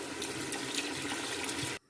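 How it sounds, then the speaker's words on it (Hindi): Two glasses of water pour steadily into a pot of chicken nihari, a continuous close splashing gush that fills the kitchen and then stops abruptly near the end. "अब इसमें हम 2 गिलास पानी ऐड करेंगे।"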